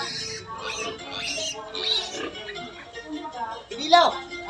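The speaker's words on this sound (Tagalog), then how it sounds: "may mga anak po itong mga baboy na ito" Pigs, including a sow with piglets, grunt and squeal in short bursts close by while a person keeps talking over them.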